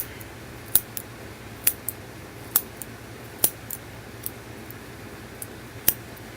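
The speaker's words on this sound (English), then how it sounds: "we're going to take the scissors again and we're going to cut her hair even shorter" Barber scissors snip through the hair of a toy pony in about seven crisp, close cuts spaced roughly a second apart, each a short bright click over a low steady background hum.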